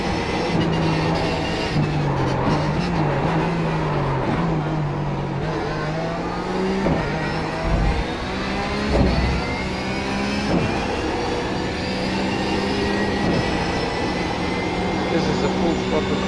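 Porsche 911 GT3 engine at full throttle in iRacing around the Suzuka circuit, a steady sustained drone with rising pitch as it accelerates through a corner, loud and continuous, with a voice talking over it.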